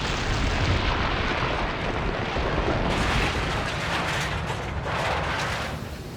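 A demolition blast at a power station, heard as a broad, sustained roar of explosive noise with rumbling debris that fills the whole clip, loud and continuous without a distinct single boom.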